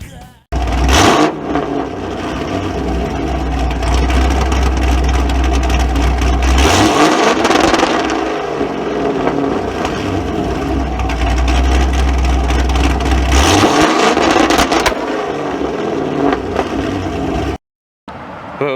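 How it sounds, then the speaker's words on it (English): A 2015 Chevrolet Camaro SS fitted with an MSD two-step rev limiter revs loudly in two long held bursts, each with a low rumbling bark, separated by brief drops, close to the listener. "That's the Camaro. We got this MSD two-step."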